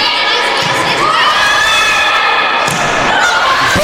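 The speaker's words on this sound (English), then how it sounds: "Healthy crowd on deck. And the Bob Martinez Center is loud." A loud indoor crowd roars and shouts nonstop at a women's college volleyball match in the Bob Martinez Center, Tampa against Rollins, the steady cheering broken by a few thuds.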